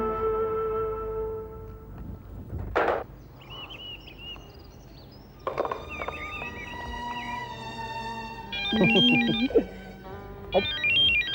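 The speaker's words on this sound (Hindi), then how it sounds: "अरे ये तुम्हारा फोन भी ना बहुत डिस्टर्ब करता है।" A phone ringtone plays a looping electronic melody, loud and close, with brief pauses between bursts of tones.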